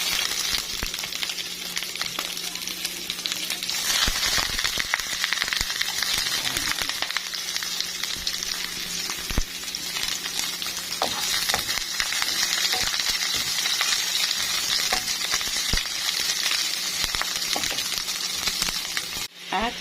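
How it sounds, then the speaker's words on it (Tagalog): Garlic and then onions sizzle loudly and steadily in a frying pan for about twenty seconds. Occasional small clinks and scrapes of stirring sound over the continuous hiss. "Pwede na yung ating bawang. Lagay natin ating sibuyas."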